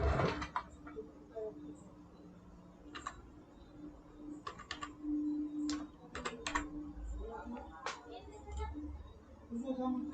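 Keys clatter on a computer keyboard in short, scattered bursts of clicks, fairly quiet and close, over a faint background hum.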